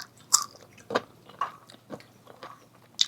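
Crunchy, sour Indian mango is bitten and chewed up close, with several crisp separate bites and crunches spaced about half a second apart over quiet background hum.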